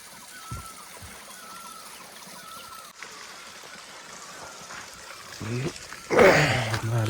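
A village stream in rural Nepal runs with a continuous rushing hiss, while murmured voices sit faintly underneath and a few louder splashes come near the end.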